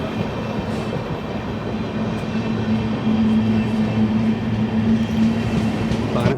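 A decorated special train pulls out of Ankola after a crossing, a loud, steady rumble of rolling wheels with a sustained low hum and occasional faint clatter.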